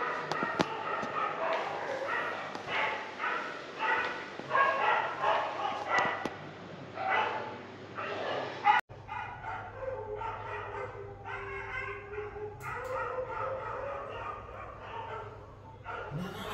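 A dog barks repeatedly in a loud rhythmic series, then shifts to quieter yips and whimpering after a sudden break, with faint background hum throughout.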